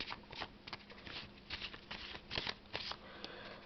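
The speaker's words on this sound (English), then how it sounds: "I will go and shuffle these" Playing cards for the Palm Island game are shuffled by hand, a close, quiet series of riffling flutters and soft slaps in uneven bursts.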